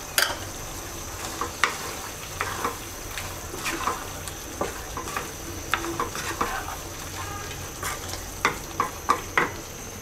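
Hilsa fish head and tail cooked with sweet pumpkin into a ghonto, with roasted cumin powder and chopped coriander, sizzle gently in a pan while a spoon stirs it, making repeated close scraping clicks over the steady frying hiss.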